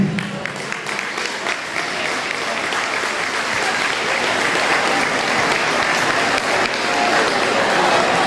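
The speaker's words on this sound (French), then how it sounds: "Je crois qu'on peut l'applaudir parce qu'il sera là pour toujours entre nous." Dense, steady audience applause at a French commemorative ceremony, a continuous wash of many hands clapping from start to end, slightly swelling toward the close.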